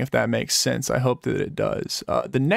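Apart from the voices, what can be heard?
No everyday noise stands out behind the speech.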